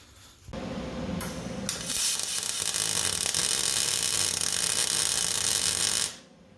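Bolts fastened under a car during an LS engine swap, heard as a loud, close burst of a power tool whirring and ratcheting steadily for several seconds before cutting off.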